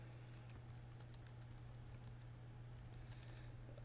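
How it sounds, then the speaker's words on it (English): Fast, light keystrokes tap out text on a computer keyboard, quiet irregular clicking in uneven bursts over a steady low hum, no talking. "I'm just typing some headlines"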